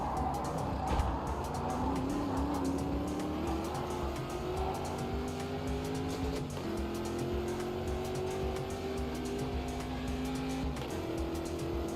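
A Porsche 911 GT3 Cup Gen 2 race car in the Automobilista 2 racing game, engine note rising and falling steadily under continuous tire squeal as it slides through a corner, loud and close throughout.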